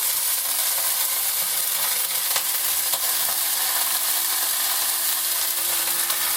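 Oatmeal crêpe batter sizzling steadily in a very hot pan, a loud, dense, even hiss that stays unbroken throughout with faint scraping ticks and no talking.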